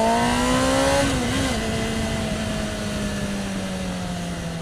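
Kawasaki ZX-6R motorcycle engine holding a steady high-rpm drone, its pitch dipping slightly and settling as the revs ease off a little, loud and close with no talk.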